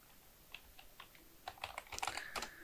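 Keys tapped on a computer keyboard, starting sparse and quiet and then speeding into a quicker, louder burst of clicks, close by.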